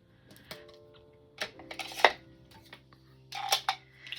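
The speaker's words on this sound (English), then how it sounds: "putting the cap back on my knife so I don't cut myself" Small plastic clicks and taps as a cap is pushed back onto a craft knife, a few sharp close knocks spaced irregularly over a quiet room.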